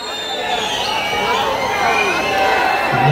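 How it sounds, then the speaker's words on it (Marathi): Crowd noise with cheering and possible whistles at a Congress party campaign launch and induction ceremony in Latur, Maharashtra: a steady, loud roar of many voices over about three seconds, with shouts mixed in. "जोरदार टाळ्या आणि शिट्ट्या झाल्या पाहिजे"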